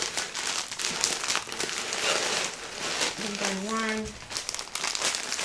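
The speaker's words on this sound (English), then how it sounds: "it's just tissue paper" Tissue paper crinkles and rustles near the mic, in steady crackling bursts while napkins are packed. A voice talks over it.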